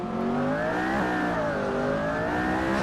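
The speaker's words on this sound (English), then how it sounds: "Maya is driving a 2011 McLaren" A 2011 McLaren MP4-12C engine drones steadily in a racing video game, its pitch rising and falling smoothly as the car holds speed, loud and continuous with no voices.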